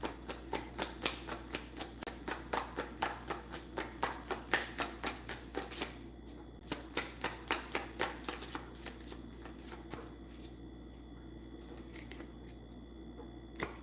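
Playing cards are shuffled close by in quick repeated riffles, a rhythmic series of crisp ruffling bursts that fades into lighter, softer shuffling toward the end.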